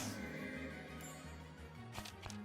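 A horse neighs in the Touhou: Lost Branch of Legend video game, a loud close whinny with a rising shrill start, then faint hoof clops near the end.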